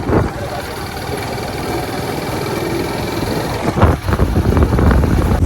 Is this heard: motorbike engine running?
yes